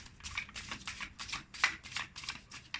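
Tarot cards being shuffled by hand in a steady riffling rhythm of about nine quick bursts, close and clear with no talking.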